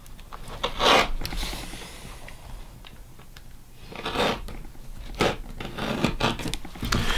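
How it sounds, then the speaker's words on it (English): A knife dragged through leather on a work table, several scraping rasping strokes with pauses between, close and fairly loud, no talking. "you can just drag your knife and cut it"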